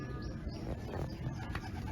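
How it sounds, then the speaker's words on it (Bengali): Hobby pigeons kept on a rooftop coo in low, soft, throaty murmurs that run steadily through the whole stretch, close by and fairly loud, with faint chirps mixed in and no talking. "কবুতর"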